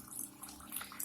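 An IFB Senorita Aqua VX front-loading washing machine fills with water during its wash cycle, giving a steady hissing, rushing flow with faint splashing, continuous and close throughout.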